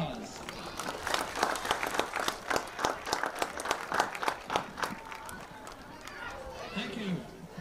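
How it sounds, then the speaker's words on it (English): At a Marion vs. Valley Heights high school game, a crowd claps for seniors and their parents, a fairly close patter of distinct handclaps rising and then fading, with some talk mixed in. "Please join me in giving our seniors and their parents a big round of applause."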